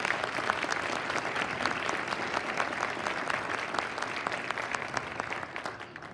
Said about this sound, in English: So please give her another big round of applause.